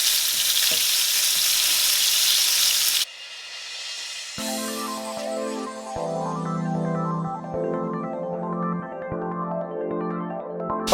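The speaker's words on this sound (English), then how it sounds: "finish frying that fish I have in the pan" Walleye fillets frying in a pan give a loud, steady, close sizzle for about three seconds, then the frying drops away and music takes over.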